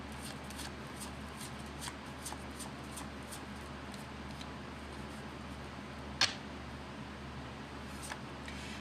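A Bicycle deck of playing cards is handled and riffled close by, with quiet repeated flicks and soft snaps over a low steady room hum, plus one sharp tap partway through.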